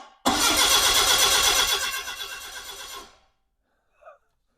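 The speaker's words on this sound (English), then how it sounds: "we'll just see if the engine turns." A car engine cranks over loudly with a fast, rough rhythm for about three seconds with no fuel connected, then cuts out, followed by a brief faint sound.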